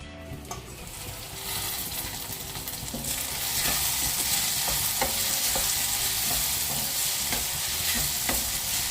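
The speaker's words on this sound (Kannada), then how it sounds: "ಇನ್ನು ಸ್ವಲ್ಪ ಫ್ರೈ ಆಗಬೇಕು" Tomatoes with salt fry on a medium flame in a pan, a close, steady sizzle that grows louder after a few seconds, punctuated by repeated stirring clicks and scrapes, with no voices.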